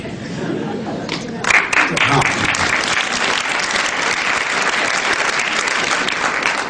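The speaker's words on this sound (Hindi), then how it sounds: "तालियां बजाइए।" An audience at a poetry event bursts into loud applause that swells and holds steady, with a brief spoken word and some chuckling mixed in at the start.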